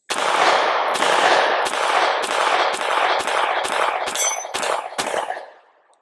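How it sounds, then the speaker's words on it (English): Ten rapid, evenly spaced shots from a Springfield Armory Hellcat Pro Comp pistol, each a loud sharp crack close to the listener, ending in a brief fading echo. "Let's go ahead and run 10 rounds. Start with the new comp Hellcat Pro, and just kind of see what the recoil mitigation is."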